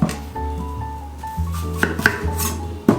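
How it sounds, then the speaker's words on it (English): A knife slicing the ends off an apple makes a few sharp, close knocks against the board, over a steady bed of background music. "The easiest way that I find to chop an apple is by cutting off the ends first."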